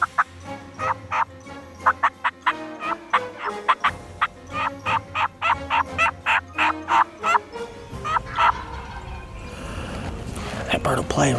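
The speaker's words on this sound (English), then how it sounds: "He just gobbled." A wild turkey gobbles repeatedly in quick rattling bursts, fairly close, followed by rustling movement toward the end.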